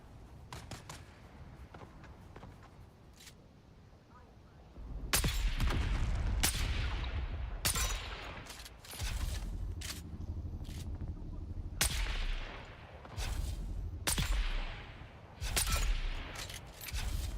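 Gunshots in the Dune Awakening survival game, several sharp cracks scattered among louder bursts and booms at moderate distance, with quieter stretches between them and no one talking.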